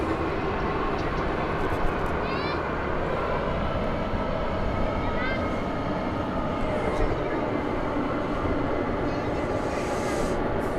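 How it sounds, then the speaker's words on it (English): An Airbus A321 airliner coming in to land at DFW Airport, a loud, broad engine roar that stays strong and steady throughout, with faint higher whines drifting over it. "It's an Airbus A321 coming in from the Peach State."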